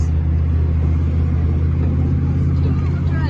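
A two-wheel-drive vehicle reverses up a hill through deep snow, its engine a loud, steady low rumble that holds without a break for the whole stretch.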